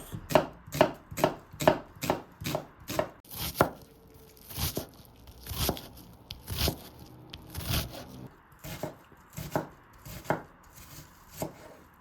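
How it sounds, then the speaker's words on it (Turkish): A large peeled onion diced into small cubes on a board with a knife, for spinach gözleme: close, crisp chopping strikes, quick and regular at first, then a slower, uneven run of cuts. "bir büyük boy soğanın hızlıca kabuklarını soyup küçük küçük küp küp doğruyoruz"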